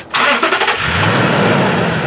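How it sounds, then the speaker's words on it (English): A 2007 Toyota Tundra CrewMax pickup cranks briefly and fires up, its engine catching with a loud close roar before settling into a steady idle. "I'm going to turn this car on."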